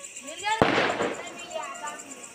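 A firecracker bursts during Diwali, one sharp, loud bang followed by a brief crackling tail, with a voice talking nearby.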